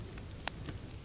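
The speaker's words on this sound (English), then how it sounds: "The rain sounded like an avalanche." Heavy rain pours during a worsening, windy storm: a steady dense wash of noise with a couple of brief, sharper splashy bursts, fairly faint and with no voices.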